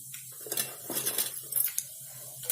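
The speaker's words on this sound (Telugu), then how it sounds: "ఇందులో ఒక హాఫ్ టీ స్పూను జీలకర్ర, ఆవాలు," Cumin and mustard seeds drop into a pan for tempering, a quick spatter of light pattering and clinking ticks on metal, close up and fairly quiet, with no speech.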